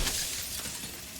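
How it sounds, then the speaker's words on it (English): Mirror cracking and bursting into jagged glass shards in the video game Slay The Princess, a bright, noisy shatter that stays loud and dense for about a second. "turning the mirror into jagged shards of broken glass"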